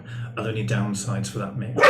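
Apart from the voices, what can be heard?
dog barking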